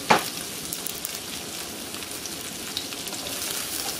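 Meat dropped into a pan of softened, transparent onions hisses and sizzles steadily, with a brief clatter at the start and then a continuous close crackle, with no voices.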